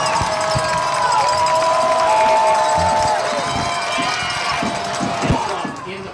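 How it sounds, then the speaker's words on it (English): A loud football crowd roars and cheers in a stadium during a fourth-and-seven play in a Clinton Dragons versus Powell Panthers game, with sustained broadband crowd noise, scattered shouts and whistles throughout, and voices mixed into the roar. "Listen to this crowd on 4th and 7 here."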